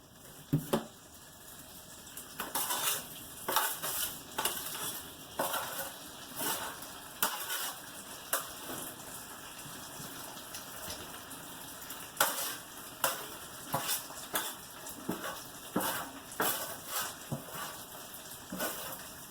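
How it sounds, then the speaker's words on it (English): Brussels sprouts sizzle in a frying pan with apple butter and whole grain mustard, a constant hissing fry punctuated by repeated scraping and stirring bursts every second or so, close and fairly quiet, with no talking. "I'm going to add the Brussels sprouts to that pan."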